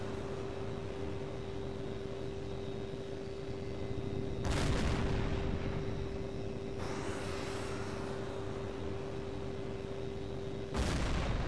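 Homing missiles launch in the jet combat game Tom Clancy's H.A.W.X. 2, heard as sharp, roaring bursts over a steady aircraft drone and a constant thin tone, with three separate launches spaced several seconds apart.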